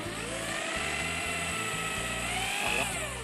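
Power drill boring into wood for a small pedal-car toy, a loud high whine that steps and stutters as the motor loads and eases, close and continuous, with no talking.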